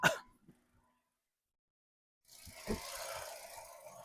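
A 2014 Hyundai i20 Sportz petrol engine: a brief click, a few seconds of near silence, then the engine cranks with a soft thump and settles into a low, quiet idle.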